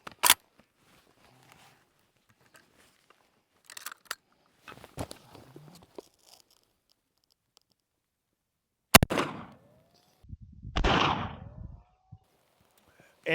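A model 1887 12 gauge lever-action shotgun fires a rifled slug at a steel target outdoors, with sharp loud reports separated by quiet gaps, mechanical clacks of the lever working between them, and brief voices.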